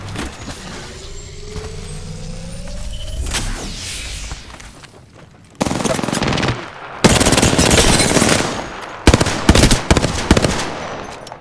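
Rapid gunfire in the video game Apex Legends, loud close bursts of automatic shots in several dense stretches separated by short pauses, over engine-like rumble and mechanical whirs early on.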